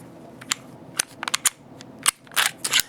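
Glock 17 and Glock 19 pistols being taken apart by hand, heard as a series of sharp metallic clicks and snaps spread irregularly over a few seconds, fairly close and with no talking.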